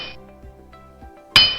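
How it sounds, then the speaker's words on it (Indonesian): A hammer strikes iron or a nail once, a single sharp metallic clang near the end that rings on briefly, following a quieter low tonal sound. "Ini merupakan bunyi yang pendek, yaitu palu yang dipukulkan ke besi ataupun ke paku"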